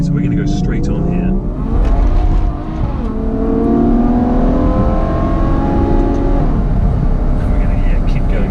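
A Ferrari GTC4Lusso engine hums steadily from inside the cabin while driving, a loud sustained drone with rising revs, and people talk over it throughout.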